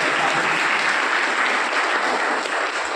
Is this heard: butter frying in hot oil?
no